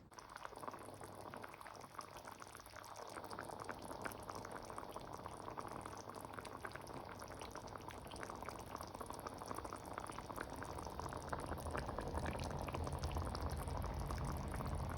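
Jamaican-style lasagne sauce simmering in a pot, a steady bubbling and gurgling that builds slightly in loudness and fills the whole stretch; close and continuous with no voices.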